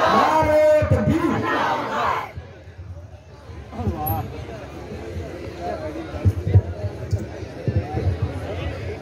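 A large gathering answers the Nara-e-Takbeer slogan with a loud collective chant. The shout comes first and the crowd noise then settles into a lower murmur, with a voice talking over it.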